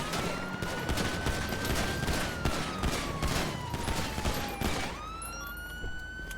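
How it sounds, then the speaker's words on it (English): Rapid gunfire bursts crackle in a roleplay video game, repeated sharp shots in an irregular fusillade over a rising and falling police siren wail, fairly loud and close. "They're shooting."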